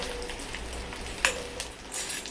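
Paneer pieces frying in very hot oil in a wok, a steady soft crackle and fizz close by, with one sharper pop around the middle and no talking.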